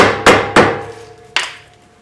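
A mallet taps a trailer wheel's dust cap into place with three sharp metallic knocks, two quick ones followed by a third after a short pause, each ringing briefly.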